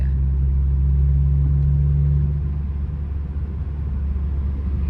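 A 1989 Toyota Corolla with a 1.5 fuel-injected engine, driving and accelerating, a loud steady low engine rumble heard from inside that holds a firm tone, then softens slightly as the revs ease.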